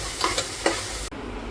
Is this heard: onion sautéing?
yes